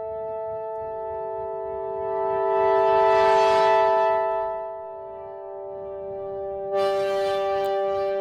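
Synth pad from AIRWAVE V3 played through a metal pipe filter, a steady sustained chord with a resonant, hollow metallic ring and swelling breathy noise in the middle, heard alone with no talk.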